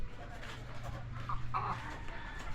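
Pet chickens cluck softly in a hot coop, a few brief clucks and murmurs rising near the middle over a steady low electric hum, fairly close, with no clear talk.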